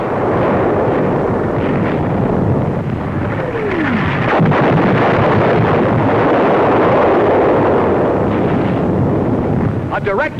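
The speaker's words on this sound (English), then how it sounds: "A direct hit on an enemy 88mm gun position." A shell explodes on an enemy 88mm gun position in the 1942 North African desert war, a loud rumbling roar that holds steady for ten seconds, broad and booming, with a faint whistling sweep partway through.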